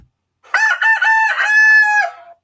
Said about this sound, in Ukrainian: Так, це півник.